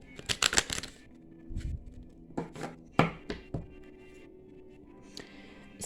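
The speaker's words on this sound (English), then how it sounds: "These cards are bigger, so they're harder to shuffle on camera." Large oracle cards being shuffled by hand, with a quick burst of riffling flicks at the start and then several separate soft slaps and shuffles, close and fairly quiet.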